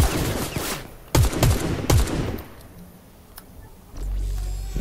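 Gunfire in Fortnite, several sharp shots in a quick cluster followed by a couple of scattered distant cracks, then a low rumbling hum rises at the end.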